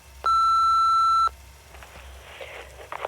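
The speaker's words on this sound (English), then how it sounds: "leave a message at the tone" One long, loud, steady answering-machine beep sounds, followed by faint rustling and quiet background noise.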